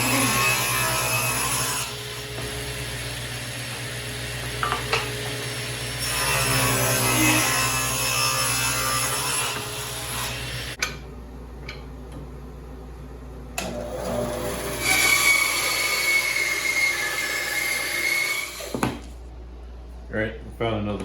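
A saw cutting maple and walnut pieces down to size, with rasping runs of sawing separated by brief pauses and a person talking between cuts.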